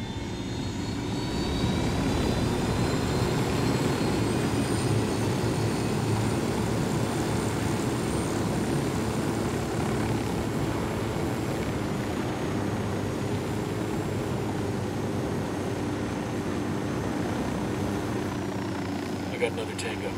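Aircraft engine roar and rotor drone from a helicopter flown in the co-op shooter Ghost Recon Wildlands, a loud steady hum lasting throughout with game voices faintly underneath.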